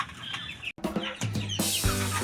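Pet Shamo chickens clucking and calling in a backyard, a series of short close clucks and squawks with a brief gap, growing louder and denser toward the end.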